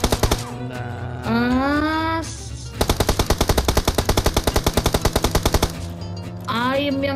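Rapid automatic gunfire in the mobile battle-royale game PUBG Mobile, a long steady burst of evenly spaced shots, loud and close, framed by other game sounds before and after.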